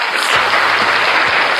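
An audience claps in a crowd at a Yamaha Xmax scooter gathering in Terengganu, Malaysia, a dense, loud and continuous patter of many hands filling the whole moment.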